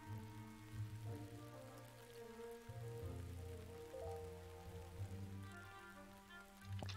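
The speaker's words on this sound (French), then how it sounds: "Enfin, c'est de la pluie quoi." Rain falls continuously in the Ruinarch video game, a soft patter under sustained, layered musical tones from the game's soundtrack, quiet and steady throughout.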